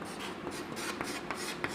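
A pen scratches steadily across paper, writing out an equation in short rhythmic strokes, close and quiet with no voices.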